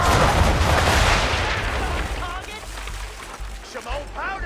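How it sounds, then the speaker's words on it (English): Ship's cannons in Assassin's Creed III firing at an enemy ship's bow, a heavy close blast opening the clip and rumbling away, followed by shouting voices. "Now, aim all guns at her bow and do as much damage as possible."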